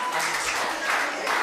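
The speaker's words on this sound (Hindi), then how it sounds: "आपकी जोरदार तालियों के बीच में" Audience applause at a Hindi comic poetry gathering (hasya kavi sammelan), a steady dense wash of many hands clapping that holds evenly for the whole moment, moderately loud and without any talk over it.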